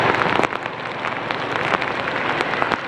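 Rain falls steadily on a street in Saigon during a heavy downpour. The hiss is dense and even, with scattered sharper drop and splash ticks throughout and no voices.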